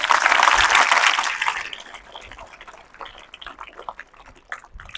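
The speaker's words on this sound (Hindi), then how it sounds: "एक बार जोरदार तालियां बजाएं।" Students at a school prize distribution function clap loudly together, a dense burst of applause that fades after the first second and a half into scattered, thinning claps.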